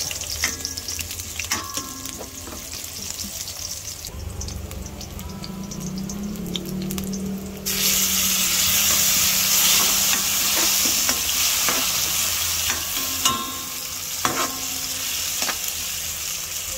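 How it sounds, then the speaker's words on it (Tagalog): Chopped tomatoes sauté and sizzle in a hot pan while being stirred, a steady crackling fry with scraping stir strokes, growing louder partway through. "Lutuing maigi ang kamatis."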